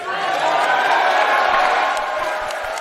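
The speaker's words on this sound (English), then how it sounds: "you can hear the crowd uniting together to chant, "Thank you, Brett."" A large wrestling crowd at a WrestleCon supershow chants together in unison, a loud, sustained roar of many voices filling the hall with cheering mixed in.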